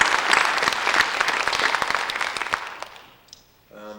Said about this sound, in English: So if we could all give them a round of applause